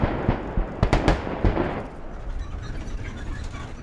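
Powerful demolition explosions destroying the Punggye-ri nuclear test site in North Korea, heard as a quick series of sharp booming blasts early on, then a rumbling roar that slowly fades.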